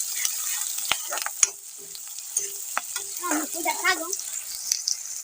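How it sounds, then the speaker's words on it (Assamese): Close, crackling sizzle of onion and garlic frying in hot oil, broken by scraping stirs and a few clacks of a utensil against the pan. "তেল গৰম হোৱাৰ পিছত ইয়াত দি দিলোঁ পিঁয়াজ আৰু নহৰু।"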